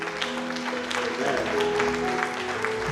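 Church congregation applauding and cheering in praise during a French-language evening worship service, a steady wash of clapping with voices mixed in throughout.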